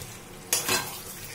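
Potatoes frying with a sprinkle of roasted coriander powder for a fennel potato dish get one quick stir, a short scraping rustle over a soft steady sizzle.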